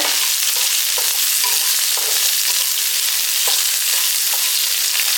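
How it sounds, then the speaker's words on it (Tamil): Continuous crackling sizzle of whole peppercorns frying in a hot pan, with faint clicks of stirring scattered throughout. "மிளகு இப்படி முழுசாக சேர்த்துக்கிறேன் இதை போட்டு நல்லா வதக்கிடுங்க"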